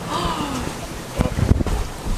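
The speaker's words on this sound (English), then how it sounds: "Just got a massive gust of wind." Strong wind gust buffeting the microphone aboard a sailboat near an island anchorage, a loud rumbling roar that swells and thumps in the second half, with water and sailing noise underneath.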